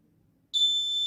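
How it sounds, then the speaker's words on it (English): After a moment of near silence, the shrill electronic buzzer of a homemade Arduino driver drowsiness detector sounds abruptly and holds a steady high tone. "a buzzer is alerting that the driver is feeling sleepy"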